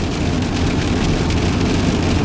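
Rain falls over Swan Pond Road after the coal ash spill, a dense, steady hiss that stays loud and unbroken for a couple of seconds, with no voices.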